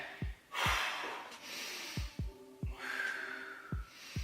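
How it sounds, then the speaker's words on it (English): Sharp, heavy breaths and snorts repeat at irregular intervals during a straight-leg hold exercise, with a few longer gasping exhales in between, close and fairly loud. "Breathing in and out"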